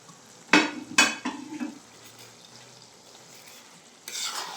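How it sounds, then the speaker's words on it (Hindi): Green beans being stirred with minced keema in a hot pan: two sharp scraping strokes of a spoon against the metal, then a softer shuffle, a quiet stretch of low sizzle, and another scraping stir at the end. "फलियां डाल के अब हम इसको अच्छी तरह से मिक्स करेंगे।"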